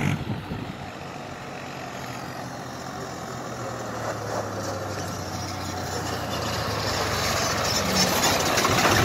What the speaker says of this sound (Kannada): ಮಧ್ಯರಾತ್ರಿ ಟ್ರ್ಯಾಕ್ಟರ್ ಮೂಲಕ ರಾಜ್ಯಾರೋಷವಾಗಿ ಮರಳನ್ನ ಸಾಗಿಸುತ್ತಿದ್ದಾರೆ.